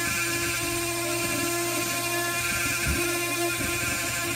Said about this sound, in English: the friction of that ABS rod is filling the hole and joining the two pieces of plastic back together